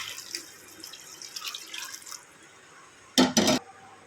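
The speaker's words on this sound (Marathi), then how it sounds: "भाजी शिजण्यासाठी आता यामध्ये पाणी घेते घालून" Water splashes and trickles into a pot of cowpea, brinjal and potato curry for a couple of seconds, followed by a quiet pause and then two louder sloshing pours.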